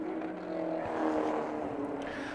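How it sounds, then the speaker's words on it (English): A Schnitzer-liveried BMW race car sweeps past during a New Zealand BMW race series event, a sustained engine drone swelling briefly near the middle before easing, moderately close. "There is a Schnitzer liveried BMW as the leader comes through."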